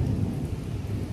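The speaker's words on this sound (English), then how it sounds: "you might hear a little thunder out there and rain because it is storming right now." Steady rain pours during a thunderstorm, a dense low rumble of thunder rolling underneath the constant hiss, loud and close with no voices.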